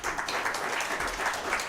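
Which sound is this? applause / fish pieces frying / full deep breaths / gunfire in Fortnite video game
applause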